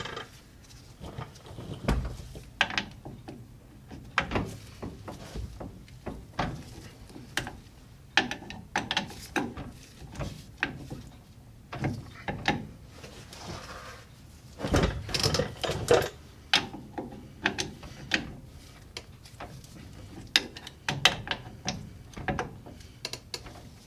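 A socket wrench ratchets on prop shaft flange bolts of a Suzuki Carry DA63T, clicking in quick close bursts with short pauses, steady and near throughout.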